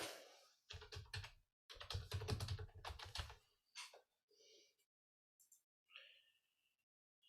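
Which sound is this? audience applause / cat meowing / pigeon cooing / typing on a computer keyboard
typing on a computer keyboard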